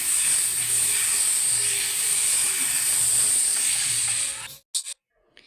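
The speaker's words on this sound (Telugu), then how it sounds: "నేను ఐరన్ ప్యాన్ మీద వేస్తున్నానండి దోశ" Multigrain dosa batter spread on a hot iron pan gives off a loud, steady, hissing sizzle that cuts off abruptly near the end, followed by a couple of brief bursts of sound.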